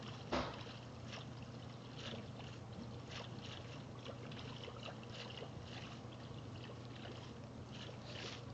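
Boat gliding across water in Minecraft, a steady low rumble with soft watery splashes and faint ticks running continuously, one brief louder knock near the start, no voices.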